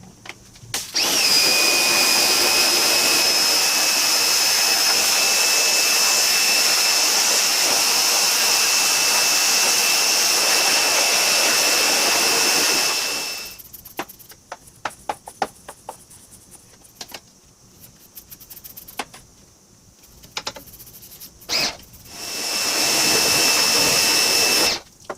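A high-pitched motorized tool whines steadily while cleaning the cooling stack of a 2006 Duramax truck. It cuts off midway, leaving scattered clicks and taps, then briefly starts up again at the end.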